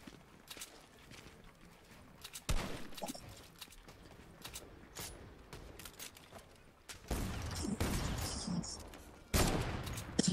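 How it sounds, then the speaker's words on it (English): Sporadic shots and bursts of gunfire in a Fortnite match, irregular and moderately loud, with sharper clusters toward the end amid other game noise. "Who is shooting me down?"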